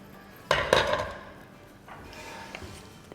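Chicken chole is served out of a pot into a dish, giving a couple of sharp metallic scrapes and clinks of spoon on pot at the start, followed by quieter softer scraping.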